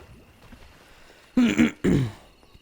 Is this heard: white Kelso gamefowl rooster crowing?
no